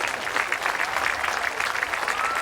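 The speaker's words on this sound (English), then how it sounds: "please give a round of applause one final time to all of our Hall of Fame inductees for 2016" Applause from the audience at a 2016 Homecoming Hall of Fame induction ceremony fills the room with steady, dense clapping from start to finish.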